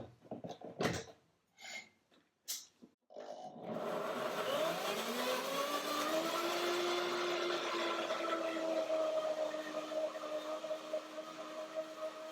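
A blender runs on a banana yogurt dressing, starting after a few clunks and knocks, then a loud steady whir whose motor pitch rises and settles into a sustained hum to the end.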